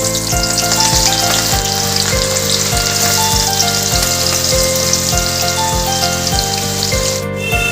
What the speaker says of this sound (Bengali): এবার এর মধ্যে বেরেস্তাটা ভেজে নেব।